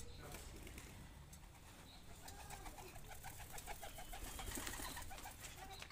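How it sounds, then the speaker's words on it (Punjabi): Pigeon let go by a child outdoors, with faint cooing and soft wing flutter over quiet background noise, the bird sounds distant and low in level. "ਉਹ ਜਵਾਕ ਨੇ ਫੜਿਆ ਕਬੂਤਰ ਹੁਣ ਛੱਡ ਦੇ"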